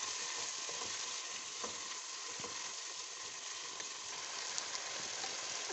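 Faint, steady sizzle of garam masala, salt and sugar being stirred into a hot pot for Kabuli pulao, a continuous low hiss with occasional soft scrapes.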